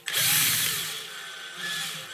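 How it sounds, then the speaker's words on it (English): A power drill whines loudly as it bites into the metal of a JBL passive radiator speaker, a steady high-pitched grinding that eases slightly midway then surges again. "I'm just gonna go ahead and drill through it"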